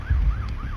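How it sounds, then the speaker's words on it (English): An emergency vehicle siren wails in a rising-and-falling pattern, heard faintly over a low rumbling background in a short burst. "You hear the sirens"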